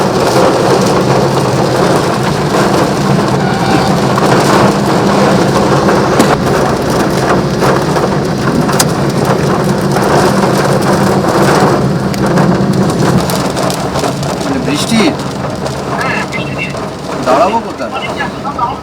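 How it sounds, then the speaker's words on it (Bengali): Heavy rain pours across Kolkata during a thunderstorm, a dense, loud, continuous roar that eases slightly toward the end, with a voice speaking over it. "বজ্রবিদ্যুৎ সহ একেবারে ঝেঁপে বৃষ্টি"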